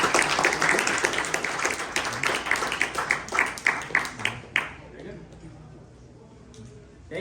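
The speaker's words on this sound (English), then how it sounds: "Let's give them a round of applause." Applause for presenters at a startup pitch event, a smaller crowd clapping in distinct rhythmic bursts under talking, then fading out halfway through, leaving quieter room sound.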